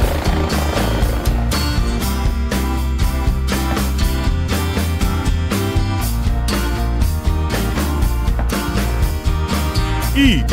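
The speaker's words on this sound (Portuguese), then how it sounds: "Helicóptero." A helicopter's rotor chops loudly and steadily for about ten seconds, with a dense rhythmic thumping that fills the whole stretch.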